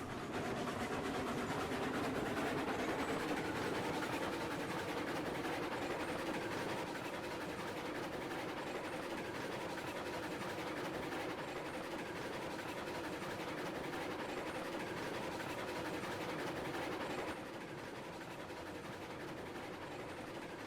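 In a train simulator video game, a locomotive engine drones steadily while rails rumble beneath, a continuous low mechanical hum with faint rolling clatter on a slight grade, easing a little near the end.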